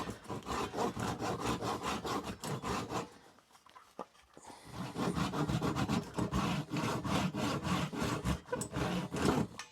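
Scrap wood being cut, likely on a lathe or with a saw, with steady rasping strokes that pause briefly midway, then resume loud and close, no talking.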